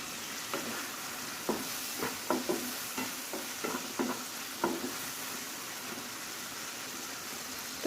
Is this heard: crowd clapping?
no